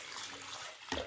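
Yeast mixed with water poured into a bowl for Maltese Lent bread dough, a close, steady watery splash and rush that shifts near the end.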